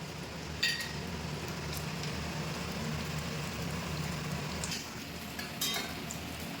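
Panch phoron seeds crackle and sizzle in hot oil with onion and chilli, a soft, steady frying hiss close by with a few sharper stirring knocks.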